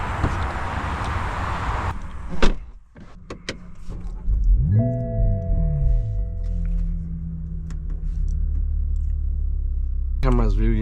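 Inside a new Toyota A91 GR Supra: the engine starts with a rising whine that settles into a low idle hum, with clicks and mechanical noises at the start and a brief burst near the end.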